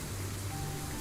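Heavy rain from the video game Limbus Company pours steadily on a surface, a thick continuous patter that fills the brief moment without any speech.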